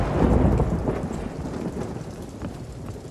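Steady heavy rain and rolling thunder from a stormy sea in the pirate game Sea of Thieves, a dense continuous roar with deep rumbling, loudest early on and easing slightly, with no voices.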